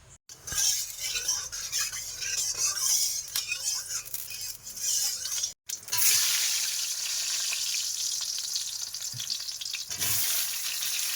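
Oil sizzles steadily in a hot wok in a village kitchen, a loud continuous frying hiss with brief scraping and clinking of a stirring utensil, a short gap midway, then the sizzle resumes strongly.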